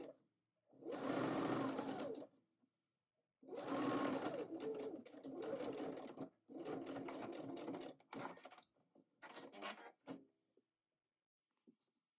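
A domestic sewing machine stitching wool coat pieces together runs in several close, loud bursts of rapid mechanical whirring, separated by short silent pauses, with the bursts growing shorter toward the end.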